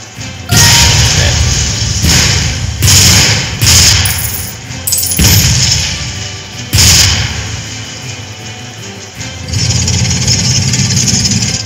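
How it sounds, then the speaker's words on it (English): Rapid-fire weapon shots land in the artillery game ShellShock Live as a loud series of heavy thuds and crashes, about six or seven uneven impacts in quick succession followed by a sustained rumbling blast at the end. "should be a hit with rapid fire"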